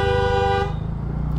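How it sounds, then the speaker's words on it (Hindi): A Mahindra Thar's horn blares in a single long, close honk amid traffic, then cuts off, leaving a low engine rumble. "हॉर्न मार रहा"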